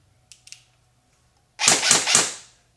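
A KWA VM4 X-10 airsoft AEG rifle gives two faint, quick clicks, then a loud burst of three sharp mechanical clacks close up. No talking is heard.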